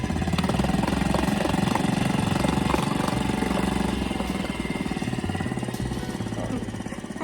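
An outboard boat engine runs steadily while warming up in a boat yard, a loud continuous mechanical drone with a fast regular pulsing throughout, easing slightly toward the end, with no talk over it.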